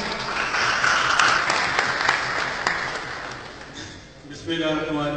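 An audience at a community tribute gathering claps to welcome Sarfraz Khan Virk, a dense, steady wash of applause that fades slightly before a fresh burst near the end.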